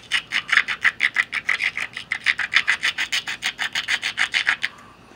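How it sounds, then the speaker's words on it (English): Flint stone ground hard against a rock, edge held perpendicular, in flintknapping: a steady run of about two dozen rapid, loud rasping strokes, close and alone, stopping just before the end. "To stone grind it, you go perpendicular to the rock this way."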